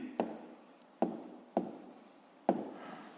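Pen strokes on paper while working a fifth-grade math exercise: four distinct taps and short scratchy writing strokes at close range, separated by brief pauses, quiet and alone.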